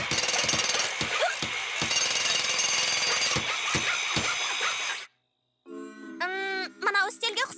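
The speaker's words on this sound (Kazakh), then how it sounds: "Балға." Cartoon hammering: a rapid, loud mechanical pounding like a jackhammer, with sharp repeated hits, then a sudden cut to silence followed by cartoon voices and musical tones.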